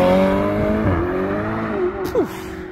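A Ferrari sports car at a supercar meeting revs and accelerates nearby, a loud steady engine tone with rising pitch sweeps and a gear change near the end.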